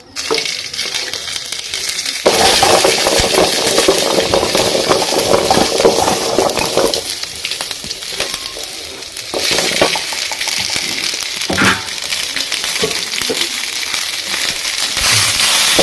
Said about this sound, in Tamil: சின்ன வெங்காயம், தக்காளி வதக்கிக்கணும்.